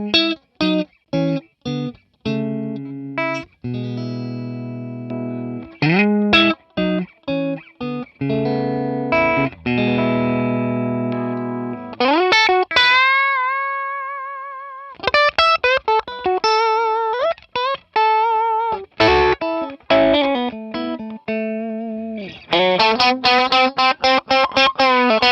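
Electric guitar played through a gritty Klon-style overdrive pedal, strummed chords and sustained notes with pauses between phrases, loud and close.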